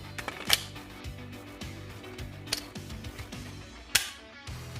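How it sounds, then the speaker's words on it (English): Glock 17 pistol cut down to Glock 19 grip size, with a KCI magazine inserted and dropping out: a few sharp, close metallic-plastic clicks and clacks over a steady low background hum, with no talking. "Mags go in. Mag drops out."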